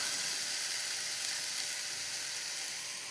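Steady sizzle of something sautéing in a hot pan, a continuous broad hiss holding even from start to finish with no voices.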